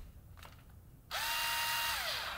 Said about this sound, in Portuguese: Furadeira!